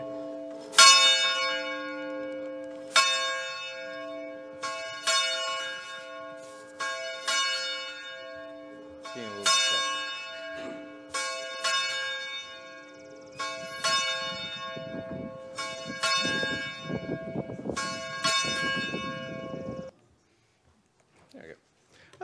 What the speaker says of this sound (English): We will begin our worship with the ringing of the church bell.